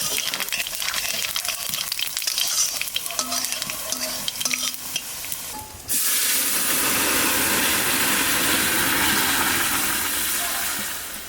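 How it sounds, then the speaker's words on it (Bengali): Five-spice tempering (panch phoron) hits hot oil for masoor and papaya dal, starting as quieter stirring and then bursting into a loud, continuous hissing sizzle that holds steady before easing slightly at the end. "তেলের উপর দিয়ে দেবো 5 ফোড়ন"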